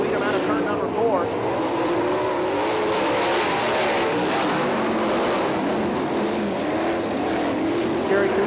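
Nonwing 410 sprint cars race side by side down the backstretch at Lawrenceburg Speedway, a loud continuous engine roar with shifting pitch from several cars, under a race announcer's steady commentary.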